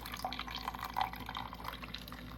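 A Keurig K-Supreme single-serve pod coffee maker brewing, with a steady close trickle and drip of liquid filling a cup, small splashy spikes over a continuous low hum, no talking.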